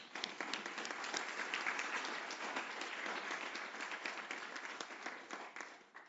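An audience at a World Health Assembly side event on gestational diabetes gives a big round of applause, steady, dense clapping with scattered sharp individual claps, sustained for several seconds before tapering slightly at the end.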